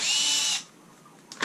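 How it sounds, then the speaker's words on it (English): A power drill whirs loudly and close for about half a second while backing screws out of an ADJ Inno Pro stage light fixture, then stops, followed by a faint quiet and a small clack. "So to get to that, start by removing these screws here."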